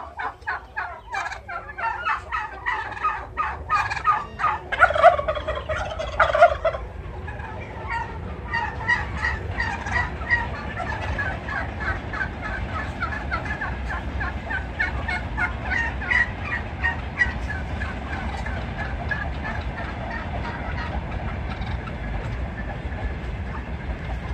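Domestic turkeys gobbling during their courtship display, with bursts of repeated gobbles loudest in the first several seconds, then a steady chorus of flock calls continuing over a constant low rumble.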